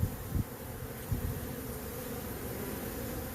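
A honey bee swarm clusters and buzzes in a steady, dense drone, close and continuous, with a couple of brief louder bumps near the start.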